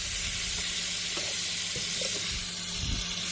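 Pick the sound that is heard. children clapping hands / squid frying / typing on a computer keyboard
squid frying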